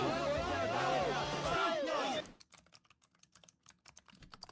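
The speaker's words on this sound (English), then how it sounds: "The keyboard clicking." Rapid keyboard clicking, a dense run of sharp, close key taps following a loud stretch of crowd noise and voices.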